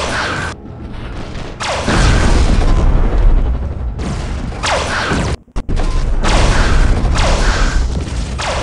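Robot weapons fire in the mech combat video game War Robots. Heavy booming blasts and whooshing impacts repeat in a loud, dense barrage, broken by a very brief dropout partway through.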